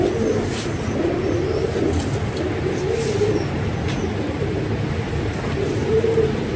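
Pigeons coo in a loft, low rolling calls repeating steadily and fairly close over a continuous background hum, with no talking.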